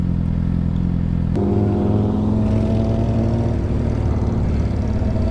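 A loud motorcycle passing close by on a road, its engine a steady low rumble that rises in pitch as it revs and accelerates, with no talk.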